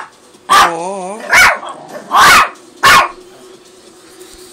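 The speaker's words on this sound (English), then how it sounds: "Still barking there" Dog barking in four loud, separate bursts close by, each lasting about half a second with short pauses between, over a quiet room; a person speaks briefly near the start.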